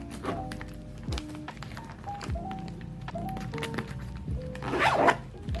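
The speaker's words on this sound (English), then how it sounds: "I can open up the zipper, and right here I keep the wipes." A zipper on a diaper bag is pulled open in several quick, scratchy strokes close up, followed by a rustle as wipes are handled.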